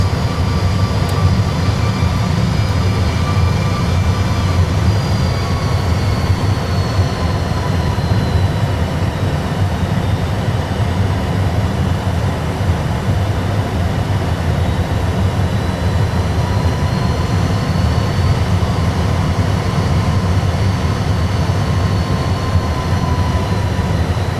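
An airliner taking off, heard from the cockpit as a steady loud low engine roar with faint high whines rising over it, continuous throughout with no voices.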